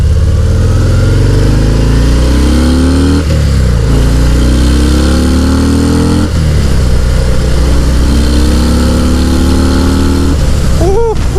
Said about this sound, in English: let's get this bike on the road